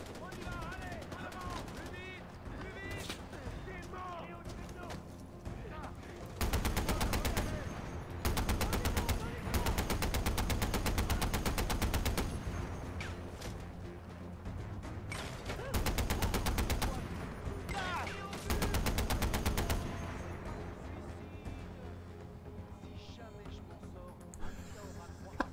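Machine gun bursts in the video game Far Cry 4, several long rapid automatic volleys separated by quieter gaps, with someone talking over the action between the bursts.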